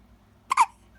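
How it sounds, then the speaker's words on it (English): A one-week-old baby girl gives a single sharp hiccup, a quick double catch of breath that is close and clear against near silence. "You got the hiccups."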